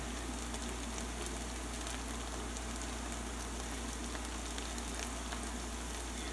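Keto twice-baked potato boats cook in a pan, giving a constant, even, fairly quiet sizzle and crackle with no pauses and no talk.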